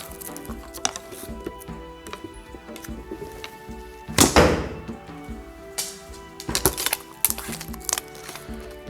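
An arrow is loosed from a bow, a sharp woody thunk standing out from quieter handling clicks and knocks, with a few smaller thuds afterward.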